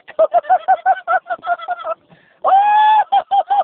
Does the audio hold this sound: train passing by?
no